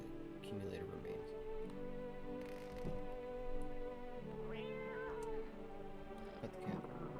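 A cat in a video game lets out a rising, drawn-out meow partway through, heard over a sustained musical drone and ambient game sound.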